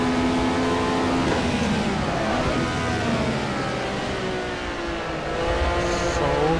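A historic race car drifts through a corner, its engine roaring loud and continuous with a steady high-revving drone from start to finish, no voices.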